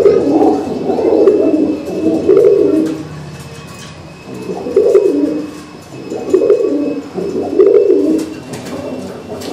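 Pigeons at a pigeon-racing loft coo in soft, repeated bursts, fairly close, with short pauses between the calls and no talking.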